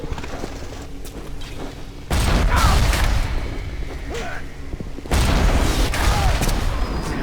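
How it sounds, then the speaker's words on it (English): Rocket turret firing in the video game BioShock, two heavy booming blasts a few seconds apart that rise sharply over a rumbling game background. "Rocket turret."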